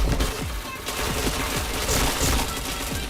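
Rapid bursts of gunfire from the online shooter Point Blank, a dense fusillade of overlapping shots and booms that continues loud throughout, with a voice faintly underneath.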